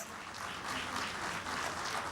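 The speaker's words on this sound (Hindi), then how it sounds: "2 बार के ओलंपिक मेडलिस्ट एंड हमारी स्टार शूटर मनु भाकर के लिए जोरदार तालियां प्लीज" A large studio audience at a live talk event applauds a two-time Olympic medalist star shooter, a dense, steady wash of clapping held at moderate volume for the whole stretch.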